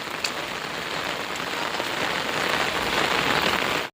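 Heavy rain pouring down in a village, a dense, constant hiss of drops drumming on surfaces, loud and close, swelling slightly toward the end with no voices.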